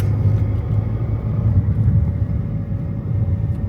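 A Tesco delivery van trails a Stagecoach bus along a town street, their engines making a steady, close low rumble that fills the whole moment without any voices.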